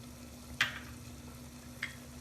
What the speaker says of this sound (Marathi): आता आपण हे व्यवस्थित परतवून घ्यायचं आहे, म्हणजे आपला मसाला कच्चा लागणार नाही